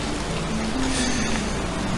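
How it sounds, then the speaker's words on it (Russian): Steady rain falls in the video game Gothic 2, a dense, even hiss of drops filling the whole clip at a constant, fairly loud level with no voices. "Дождь пошел."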